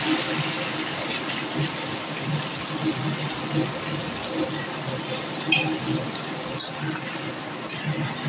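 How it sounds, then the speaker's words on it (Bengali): Water is poured into a pan of drumstick (sajna) curry, a steady broadband gush and splash that runs the full length at moderate loudness with no talk over it. "এখন আমি এর মধ্যে আরো অল্প একটুখানি জল দিয়ে দেব"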